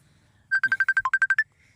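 A mobile phone rings with an incoming call, a rapid run of about a dozen bright electronic beeps in a quick even rhythm lasting about a second, close and loud against a quiet background.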